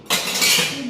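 Metal clinks and scrapes against a pan as peanuts are roasted, a short, bright burst of cutlery-on-cookware clatter heard close up.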